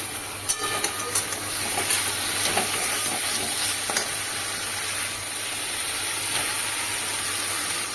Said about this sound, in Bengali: পাকা টমেটো দিয়ে আরেকটু ভালো করে কষিয়ে নেব।